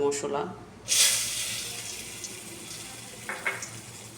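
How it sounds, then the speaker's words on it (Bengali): Water is poured into a hot pan of spices fried in oil with mustard seeds for a tangy tomato and prawn curry, a bright hissing splash near the start that then settles into a faint sizzle. "মশলাগুলি দিয়ে একটু জল দিয়ে দিলাম।"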